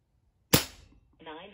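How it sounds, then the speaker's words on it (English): A single sharp, close crack from an Aselkon MX8 .22 calibre PCP air rifle firing a JSB pellet, decaying quickly, followed by a brief voice. "Shot number five on the JSBs."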